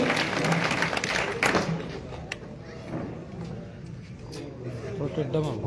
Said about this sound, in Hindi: तालियां बजा करो, तालियों तो लगता नहीं।